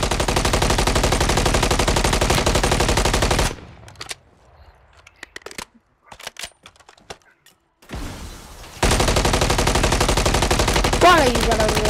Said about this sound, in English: he started shooting at you, though